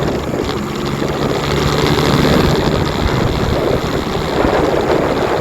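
A car engine drones steadily in second gear on a drive through Cook's Forest, a loud, continuous low rumble mixed with broadband road and wind noise throughout.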